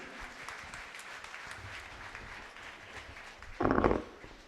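A short, loud burst of audience applause breaks out near the end of a stretch of quieter room noise at a formal evening ceremony with a keynote address.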